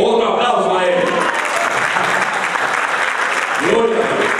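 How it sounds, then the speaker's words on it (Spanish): Congregation applauding inside a church, a steady, dense wash of clapping throughout, with voices and cheers mixed in at the start and end. "Otro aplauso a él."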